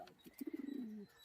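A breeding pigeon gives a single soft, rolling coo inside a loft, a quick pulsing burst that settles into a sustained tone, faint and alone.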